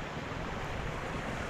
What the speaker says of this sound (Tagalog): Kaso lang malakas ang hangin.